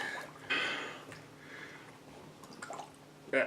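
A hat dipped back into water and soaked, with soft squishy sloshes and drips, a louder splash near the start and another at the end, quiet dripping between.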